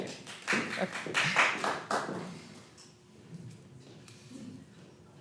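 An audience at a city council meeting breaks into a short round of close clapping that quickly thins out to scattered taps, with a single voice speaking briefly.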